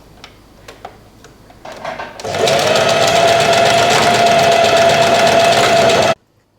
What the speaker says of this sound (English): And now you just want to sew the two ends together here.